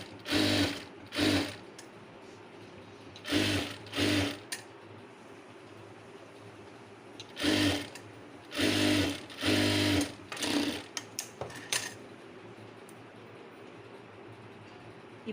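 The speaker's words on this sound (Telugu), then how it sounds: "ఇంకొక కుట్టు వేసేయాలి ఇలా." A sewing machine stitches a blouse in several short bursts of rapid whirring, each lasting about a second, separated by quiet pauses, fairly close and clear.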